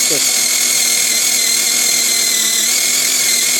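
A battery-powered chainsaw cuts into wood with a loud, steady high-pitched whine that holds at full strength throughout.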